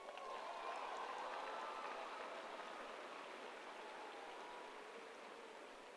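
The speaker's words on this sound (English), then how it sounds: "Give her a round of applause." Audience applause at a 2017 Clark High School gathering, a dense sustained wash of clapping that starts full and slowly thins over several seconds, with no voices over it.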